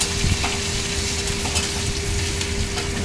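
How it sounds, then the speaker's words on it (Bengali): Onion, whole garlic cloves and five-spice frying in hot oil until reddish-brown, a loud, dense, close sizzle with stirring scrapes throughout, no voices. "দিয়ে ভালো করে লাল লাল করে ভাজছি"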